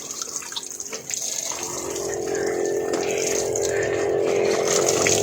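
Water poured over an elderly man as he bathes, a steady broad splashing and gushing flow that starts about a second in and continues loud and close to the end, with no talk.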